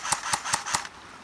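A CYMA CM048 AK-74 airsoft rifle fires four evenly spaced semi-automatic shots, each a sharp close snap about a fifth of a second apart, followed by quiet.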